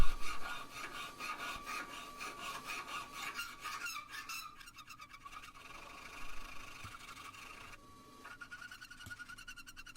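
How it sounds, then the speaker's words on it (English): A small half round file rasps in a steady back-and-forth rhythm along a soft steel farrier's knife made from an old rasp, close and prominent, with a brief pause and change in tone partway through, no speech. "give it a bit of a rasp up, or file up anyway, a little half round file there"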